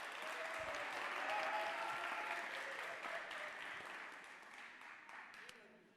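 Audience applause in a hall at a high school competition, dense continuous clapping from a large crowd, full at first and slowly thinning toward the end, heard at a distance.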